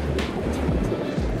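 Video game ocean waves in VRChat wash and rumble in a soft, continuous swell, with a few brief hissing surges breaking over the low roar.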